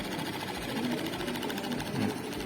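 A small DC electric motor spinning slowly whirs steadily up close with a fast, even buzzing rhythm.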